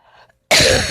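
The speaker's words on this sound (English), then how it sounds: "Now I'm going to cough, so you hear this." A single loud, harsh cough bursts out close by after a moment of near silence and a faint murmur, lasting about half a second.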